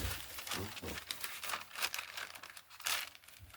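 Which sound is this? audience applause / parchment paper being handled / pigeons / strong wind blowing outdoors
parchment paper being handled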